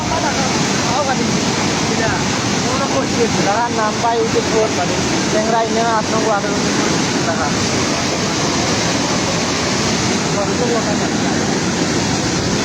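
Floodwater rushes steadily and loudly along a river protection embankment in Rajnagar, Moulvibazar, a continuous broad roar mixed with wind buffeting, with faint voices briefly audible in the middle.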